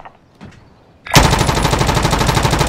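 A gun in the video game Apex Legends fires a sudden, loud, sustained burst of rapid automatic gunfire that runs without pause after a moment of near quiet.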